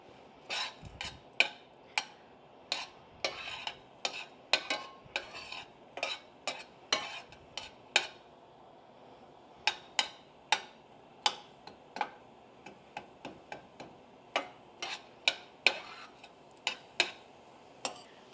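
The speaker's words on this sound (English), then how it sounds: "So we're gonna saute these until they're soft." Garlic sautéed in a pan, heard as quiet, repeated clicks and taps of a utensil stirring against the pan, irregular but steady throughout, over a faint sizzle.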